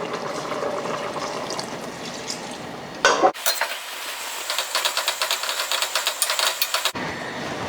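A cornstarch slurry stirred into simmering beef pares sauce in a pot, with a steady bubbling simmer, then a run of quick rhythmic scraping stirs before the simmer returns, no voices.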